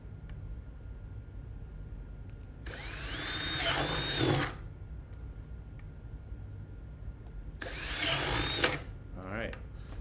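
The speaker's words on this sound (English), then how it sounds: "I'm gonna go ahead and drill these holes first." A power drill bores holes into plastic buckets in two separate bursts, each a few seconds long and rising in whine as the bit cuts through. The drilling is close and fairly loud, with quiet room noise between the bursts.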